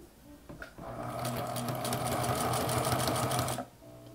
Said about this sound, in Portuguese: Eu já começo já dando retrocesso e vou fazer meus pontos.